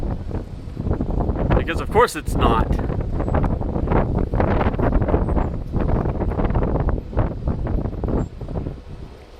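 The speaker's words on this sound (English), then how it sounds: "It's super windy right now" Strong outdoor wind buffets the microphone with a loud, continuous rumble around a small washer-turbine conversion setup, while someone talks over it and a brief rattle sounds near the start.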